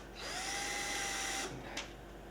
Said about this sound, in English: we have our two pilot holes drilled